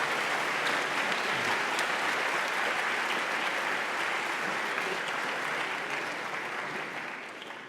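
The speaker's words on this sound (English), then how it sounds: "to basically give a round of applause to your families" A graduation ceremony audience applauds their families, a dense, sustained round of clapping from a large crowd that holds steady before tapering slightly at the end.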